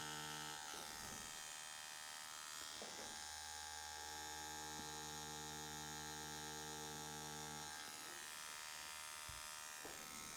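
A tattoo machine buzzing as the needle works along the line of a tattoo, a close, continuous electric hum with tonal whine that pauses briefly and restarts a few times.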